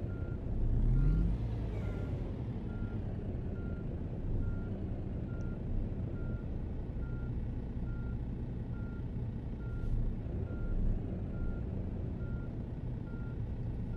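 A heavy truck in the driving game On The Road reverses into a depot, its steady reversing beeps repeating evenly over a constant low engine rumble, with a brief louder engine swell near the start.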